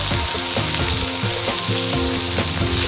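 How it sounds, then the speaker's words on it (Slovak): Beef sears loudly in a pan alongside fresh rosemary, a dense close sizzle and crackle with rhythmic scraping of stirring or turning throughout, no speech. "Mäso si po chvíli otočíme na druhú stranu a ďalej opekáme."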